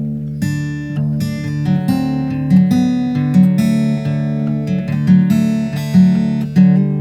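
An acoustic guitar, fingerpicked with index, middle and ring fingers, plays a descending fill run of plucked notes over ringing bass strings, close and clear with no talking.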